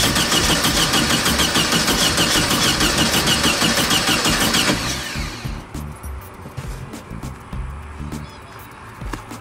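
A 1971 VW Type-3 Squareback 1600 Variant engine cranks and catches, running loud and rough for about five seconds before sputtering down to a fading, uneven idle, close by.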